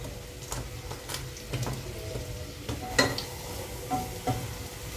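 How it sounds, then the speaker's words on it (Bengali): Quiet frying of a Mughlai paratha being flipped in a pan, with a soft, steady sizzle and occasional light clicks and taps, no voices. "ওলট পালট করে দু তিনবার ভেজে নিচ্ছি"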